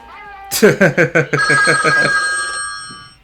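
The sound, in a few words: loud telephone ringing in the film The Exorcist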